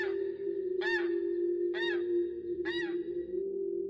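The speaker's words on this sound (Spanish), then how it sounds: "oí un graznido algo peculiar. Era como el de un pato o un ganso, pero mucho más fuerte y grave." Three loud, deep squawks like a duck's or goose's, used as a sound effect in a horror story, ring out evenly spaced over a steady low hum.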